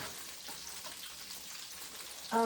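Bok choy and tofu frying in a wok give a soft, steady crackling sizzle, faint and continuous, with a louder bump right at the end.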